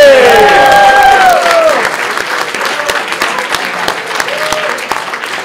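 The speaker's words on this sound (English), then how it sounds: "Give another huge round of applause for everybody!" A large crowd at a hackathon final demo event bursts into loud applause with cheering whoops at the start, then settles into lighter, thinning clapping that carries on to the end.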